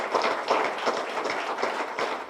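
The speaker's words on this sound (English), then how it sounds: "Let's give him a round of applause." A round of applause from the audience at a Lions Club installation ceremony in Secunderabad: steady, dense clapping from many hands, moderately loud and fairly close, with no voices over it.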